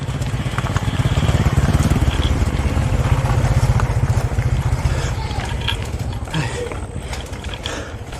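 A motorcycle engine runs loud and close on a mountain trail ride at Mt. Balagbag, a continuous rattling drone with a mechanical chatter that eases slightly toward the end.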